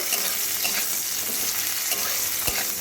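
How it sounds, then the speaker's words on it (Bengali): Chopped onion frying in hot oil gives a loud, continuous sizzle, broken by occasional scrapes and taps of a spatula stirring the pan. "পেঁয়াজটা সম্পূর্ণ দিয়ে খুব ভালো করে একটু নাড়াচাড়া করে তেলের মধ্যে ভেজে নেব"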